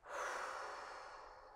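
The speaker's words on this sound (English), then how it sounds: "and breathing out through your mouth." A single long, breathy exhale through the mouth during a yoga breathing exercise, close and soft, tapering off over about a second and a half with no speech.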